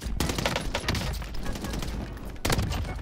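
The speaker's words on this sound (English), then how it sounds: "let's see what kind of nasty, super long range this gun has right now." Marco 5 gun in Warzone set up as a long-range sniper, its shots cracking loud and close in a rapid burst that pauses, then a fresh sharp volley near the end.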